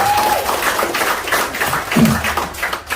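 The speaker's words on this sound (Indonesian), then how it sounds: "Tepuk tangan buat PT saya" A seated audience at a sales presentation claps in a dense, continuous burst, close and fairly loud, with murmured voices mixed into the applause.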